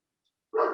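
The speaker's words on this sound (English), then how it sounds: "Sorry about my dog in the background." A dog barks once in the background during a boxing podcast conversation, a single short, fairly loud bark after a stretch of silence.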